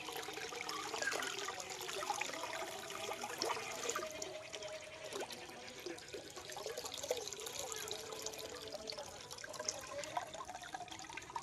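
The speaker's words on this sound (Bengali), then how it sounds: "আর আজকে চাল ধোয়া জল ফেললাম পুকুরে" Rice-washing water is poured into a village pond in the Sundarbans, making a soft continuous trickle and splash that stays faint and steady throughout.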